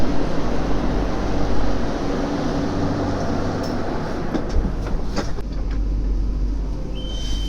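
An Istanbul metro train rolls along with a continuous loud rumble and rushing rail noise heard from inside the carriage, with a few faint metallic squeals and clicks near the end.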